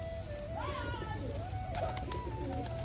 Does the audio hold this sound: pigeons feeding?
yes